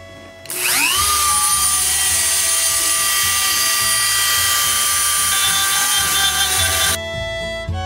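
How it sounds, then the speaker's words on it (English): A Dremel rotary tool working on a Kentucky mandolin top: a high whine spins up quickly and holds loud and steady for about six seconds before cutting off, close and without talk. "It's hard to hold the Dremel tool, it's so hot."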